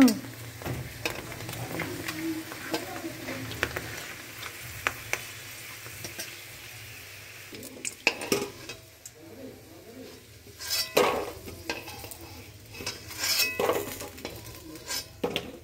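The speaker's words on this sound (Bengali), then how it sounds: "এভাবে আমি সব পাঁপড়গুলোকে ভেজে নিই" Papads frying in hot oil give a soft, steady sizzle, broken by scattered clinks and scrapes of a utensil against the pan. Some louder stirring bursts come near the end.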